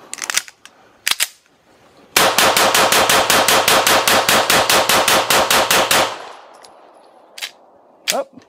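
An Atlas Titan Reloaded pistol fires in a function test for a 3-gun match: a couple of isolated shots, then a fast string of about twenty loud, evenly spaced cracks, followed by a ringing tail and two more handling clicks.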